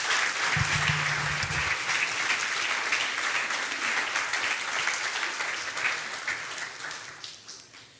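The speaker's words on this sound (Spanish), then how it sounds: "Denle un aplauso al Señor" Church congregation at a Spanish-language sermon applauding for the Lord, a loud sustained round of clapping with a brief low hum early on, gradually fading toward the end.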